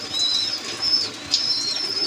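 Pigeons in a loft coo softly while feeding their chicks, a steady low murmur of bird calls with faint chirps running throughout.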